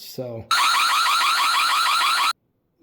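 An automated chicken coop's predator alarm blares loud and steady for about two seconds with a rapid warbling electronic pulse, preceded by a brief voice and followed by silence.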